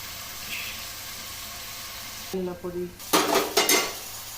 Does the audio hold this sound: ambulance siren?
no